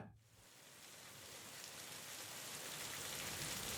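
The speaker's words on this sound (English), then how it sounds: "The rain poured over Esthallow, a relentless silver curtain that hammered the island's black rocks and tin roofs." Heavy rain pours onto black island rocks and tin roofs in a dense, steady hiss that swells a little, with no voices.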